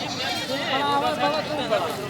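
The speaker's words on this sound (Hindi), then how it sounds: "ये जो पहले नंबर पर खड़ा हुआ ये बकरा है, आपको दिखाता हूँ।" Rajanpuri Gulabi goats bleating in a pen, overlapping wavering bleats from several animals close by, mixed with a background hubbub of voices and talking.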